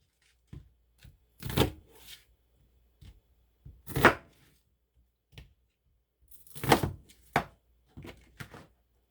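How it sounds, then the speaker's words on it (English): A kitchen knife slices through two onions on a cutting board, giving close, crisp crunching cuts in irregular bursts separated by quiet pauses and light taps. "I'm just cutting the 2 onions in half like that."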